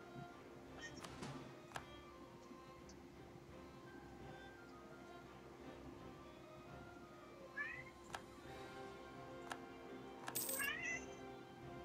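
A domestic cat meows a few times around its usual feeding time, the short calls fairly close over a steady indoor background hum, with small clinks nearby.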